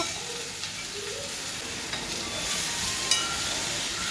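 Ivy gourd curry with chilli and turmeric bubbling in a pot as a spoon stirs through it, a steady soft simmering hiss with faint scraping throughout, close and moderately quiet.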